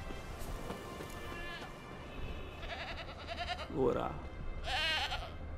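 A goat bleats in The Witcher 3 video game, giving a couple of short wavering calls near the end over steady rain-like ambience, while someone talks over the game sound.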